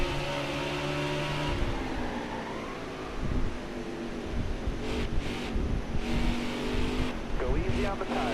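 A NASCAR Heat 4 stock car drifts around New Hampshire in a racing game, with a steady loud engine drone and shifting pitch under continuous talking.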